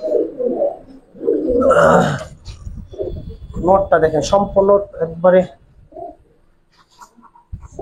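Silver khaki pigeons coo in soft, low bursts at a home pigeon loft, partly mixed under someone talking close by.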